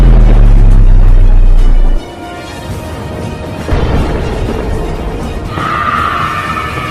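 A massive, deep boom roars for a couple of seconds and cuts off sharply, followed by crackling rumble and debris-like noise.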